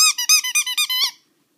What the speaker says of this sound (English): you like squeaky stuff